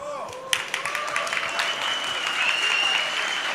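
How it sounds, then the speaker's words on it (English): Applause fills an esports LAN final for the StarLadder season 12 Counter-Strike match on Mirage, with a crowd clapping steadily at moderate volume alongside an announcer's voice. "Let's applause."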